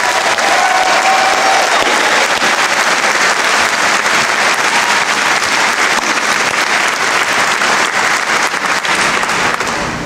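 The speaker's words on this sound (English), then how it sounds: "so I think give it up one more round of applause for Logan, please." Loud, continuous applause from a large audience at a university graduation ceremony, a steady wash of clapping lasting the whole stretch with only faint crowd murmur beneath.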